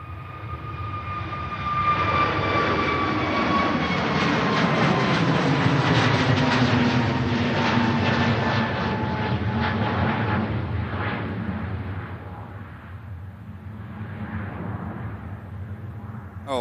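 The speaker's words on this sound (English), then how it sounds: "EasyJet heading out to Hagada" An EasyJet jet aircraft heads out at Manchester Airport, its engines roaring loud and close with a high whine that swells, holds and slowly fades as it moves away.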